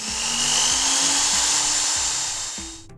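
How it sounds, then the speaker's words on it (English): A power drill whirs with a loud, high-pitched steady whine, its motor pitch dipping briefly several times as it bites, before stopping at the end. "A drill machine would sound like this."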